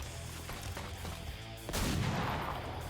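Single pistol shot fired in XCOM 2, a sharp broadband crack at mid-clip followed by a rumbling tail, with game ambience and a low drone underneath.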